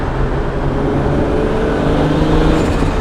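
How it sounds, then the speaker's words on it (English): A built Toyota Supra engine drones steadily from inside the car while driving, a loud, even low rumble with a throaty, deep tone and no voices. "first time being able to drive the Supra in months"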